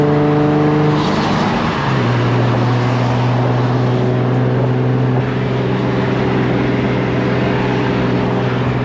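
A boosted Z car cruises on the freeway on a hot day, with a loud, constant engine drone and road roar from inside the car and a slight drop in engine pitch early on.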